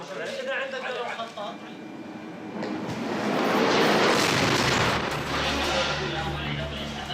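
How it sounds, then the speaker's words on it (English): An explosion in a war zone, about one block away, sends up a broad heavy burst of rumble and debris noise, then a lower lingering roar; voices are heard before it. "The explosion is only 1 block away, the start of a battle that will continue for 3 months."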